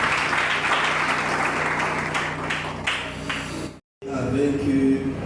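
An audience applauds in a continuous loud wash of clapping during a French-language talk show, holding steady before cutting off abruptly, then resuming briefly.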